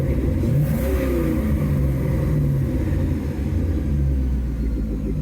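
A newly acquired car's engine revs and rumbles in a deep, steady drone with a slowly rising and falling pitch, loud and close, with no voices over it.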